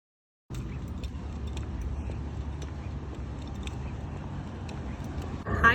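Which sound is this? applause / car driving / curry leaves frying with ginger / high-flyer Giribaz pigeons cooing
car driving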